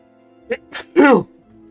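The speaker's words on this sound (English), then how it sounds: "Yeah, sneezing ain't feeling good." A person sneezes once, short and close, with a small breathy lead-in before the main burst, over a faint steady hum from a game playing in the background.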